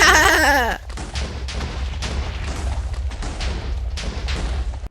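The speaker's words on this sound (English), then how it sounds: "I'm just gonna spam click everything. Explosions for days." A rapid string of booming explosions and blasts in modded Minecraft rumbles on continuously after a brief burst of tonal sound at the start.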